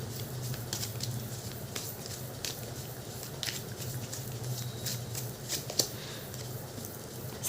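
Tarot cards are shuffled and pulled in soft, rapid riffling and flicking sounds close by, with scattered sharper card snaps throughout.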